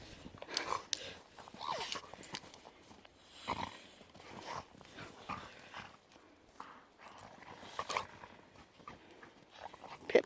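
Pit bulls romp and play in fresh snow during a spring snowstorm, with scattered close thumps, scuffles and snorting bursts; brief voices come and go between the bouts of play.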